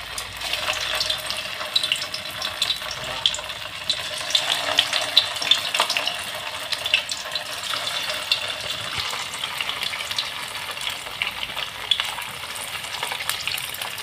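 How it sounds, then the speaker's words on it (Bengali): Medu vada frying in hot oil gives a steady, dense sizzle with light crackles and bubbling throughout, close and even in level, with no talking. "দিয়ে এবারে হালকা হাতে আমি ভেজে নেব এই মেদু বড়াগুলো।"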